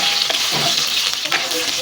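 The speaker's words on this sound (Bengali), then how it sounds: "গরম মশলাগুলো দেওয়ার পর ভালোভাবে একটু নেড়েচেড়ে ভেজে নিতে হবে" Whole spices fry in hot oil (bay leaf, cinnamon, green and black cardamom, cloves, black peppercorns) for beef rezala, a bright close sizzle with quick stirring scrapes.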